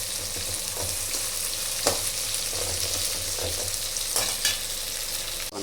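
Tomato and coconut fry for a curry in a pan, giving a continuous close sizzle with occasional stirring scrapes and soft clicks.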